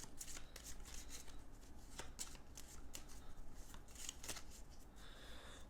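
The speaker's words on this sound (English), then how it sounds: "let's shuffle up the green cards" Rapid riffling and flicking of green cards from the Resident Evil 2 board game being shuffled, a quick series of crisp snaps close by with no talking.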